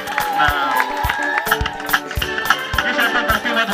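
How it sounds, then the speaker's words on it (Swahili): Birthday party guests in Manchester break into loud cheering and rapid clapping, with high ululating cries riding over the crowd noise and a few voices mixed in. "Tushangilie kwa makofi na vigeregere"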